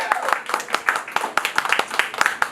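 An audience at a comedy night in a lounge claps for a comedian, giving a dense, steady patter of many hands that stays bright and lively throughout.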